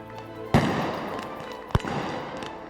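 Two sharp, loud rifle shots ring out during a SWAT sniper challenge in Dubai, fired from a tower balcony. Each crack has a booming tail, and the two are about a second apart.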